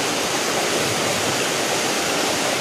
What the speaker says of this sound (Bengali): দেখো এখন কত স্পিডে জল পড়ছে, কোথায় গিয়ে জল পড়ছে।